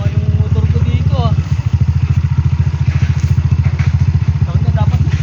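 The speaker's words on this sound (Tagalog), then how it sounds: "Kawawa yung motor ko dito ah." Motorcycle engine pulsing steadily and close on a rough, humpy mountain road, with clattering from the bike over the bumps and people talking throughout.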